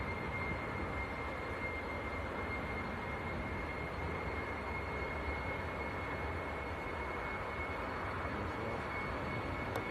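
A KLM airliner rolls for takeoff at Leeds Bradford airport, its steady, broad engine roar heard from a distance and holding level throughout, with no voices.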